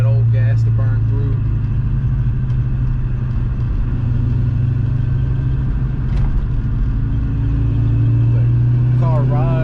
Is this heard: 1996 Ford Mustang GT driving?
yes